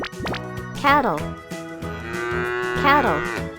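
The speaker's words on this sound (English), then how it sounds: "Cattle." Cattle moo loudly and close in a children's farm-animal naming game, two long drawn-out lowing calls with a short voice between them.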